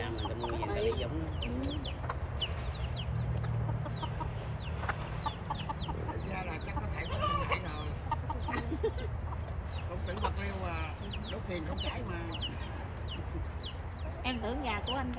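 Backyard chickens kept by a homeless man in the United States cluck and chatter continuously, several birds at once, with people talking over them throughout.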